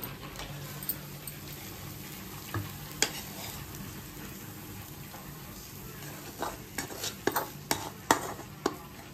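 Toor dal and grated coconut are stirred and roasted in a dry pan, giving a quiet, steady scraping hiss broken by sharper clicks of a spoon against the metal.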